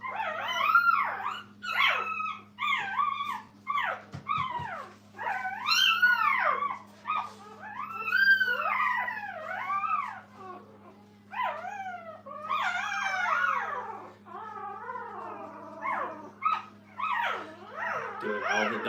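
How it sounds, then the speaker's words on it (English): A litter of puppies at a kennel howls, yips and whimpers in a busy overlapping chorus, with rising and falling wails and short fussy cries continuing for the whole stretch, close by over a faint steady hum. "Doing all the dog noises, growling, fussing."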